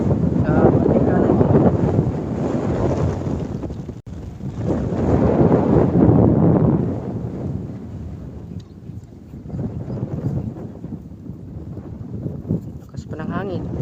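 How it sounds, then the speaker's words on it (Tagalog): Strong wind on Laguna Lake roars and buffets loudly across the microphone in heavy gusts, with some boat or water rumble underneath and someone speaking over it at times. "Malakas ang hangin."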